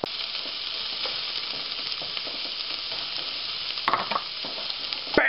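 Bell peppers fry in an oiled skillet over medium-high heat with a steady, even sizzle, then clatter and scrape as they are stirred near the end.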